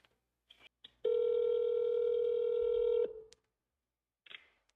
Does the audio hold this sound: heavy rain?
no